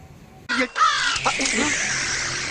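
A crow caws loudly and close by during a hair-care product review, its harsh calls coming in short bursts and then running on over a steady bright background noise.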